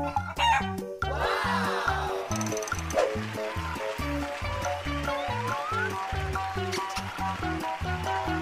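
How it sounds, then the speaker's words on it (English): Cartoon chicken sound effect with rapid rhythmic clucking throughout and a rising rooster crow near the start, close and steady, with no speech. "Chicken."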